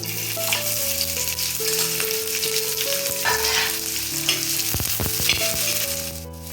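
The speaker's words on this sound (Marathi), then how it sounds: "आता मी थोडं तव्यावर तेल टाकते आणि हा कांदा भाजून घेते" Onions sizzle steadily in hot oil on a flat griddle pan, close up, with brief clinks of stirring near the end and a faint tonal hum underneath.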